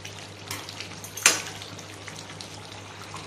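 Chicken gravy cooking in a pan, a soft continuous sizzle and bubble with one brief sharper splutter or stir partway through, fairly quiet and steady.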